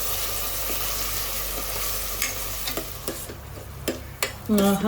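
Country chicken curry masala sizzles in a pan while a spoon stirs it, a steady frying hiss broken by scattered scrapes and taps that grow more distinct toward the end.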